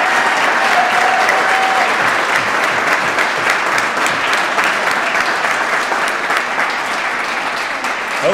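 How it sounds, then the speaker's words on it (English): Sustained applause from a crowd at a scholar-athlete banquet, steady and loud throughout, with a faint voice briefly audible beneath the clapping. "Keep those applause going."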